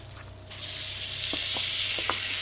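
Butter sizzles loudly in a very hot frying pan, a bright, dense hiss that starts abruptly and then holds steady, with a few faint clicks of a utensil against the pan.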